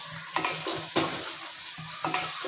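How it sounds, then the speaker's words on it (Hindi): Masala for chicken biryani fries in a pan while a spoon stirs it, making a bubbling sizzle broken by several scraping strokes against the metal, close and with no voices. "मैं इसको 5 मिनट तक भूनूंगी इसको।"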